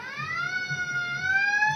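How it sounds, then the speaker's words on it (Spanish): Fire alarm sound effect: a steady electronic tone with stacked harmonics that glides slowly upward and holds, loud and alone with no voices, lasting under two seconds. "Alarmas de bomberos"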